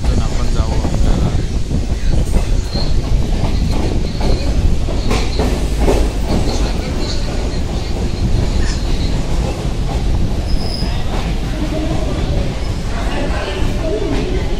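Passenger train on the Thivim to Khed run near Chiplun, its steady rumble and rhythmic clatter of wheels on rail joints continuous throughout, with wind noise on the microphone and faint voices in the background.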